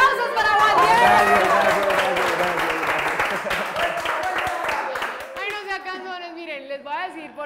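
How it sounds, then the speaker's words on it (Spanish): A studio audience gives a burst of loud clapping and cheering for a guest named Matías, fading after several seconds as voices and chatter take over. "¡Aplausos para Matías!"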